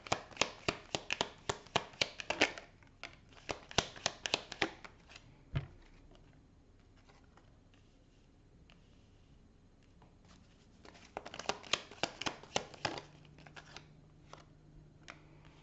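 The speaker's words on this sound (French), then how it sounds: "Alors je vais tirer toutes les cartes" Tarot cards are shuffled and drawn in two bursts of rapid, crisp riffling and slapping, separated by a quieter stretch with a few soft taps and handling noises, close and fairly quiet.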